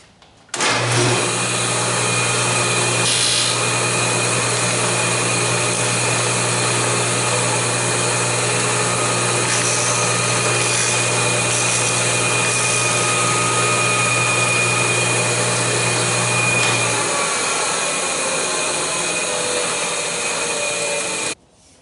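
A table saw fitted with a nock and tip taper tool cuts a taper, giving a loud, steady, close motor whine with a shifting cutting tone that lasts about sixteen seconds, then the motor winds down.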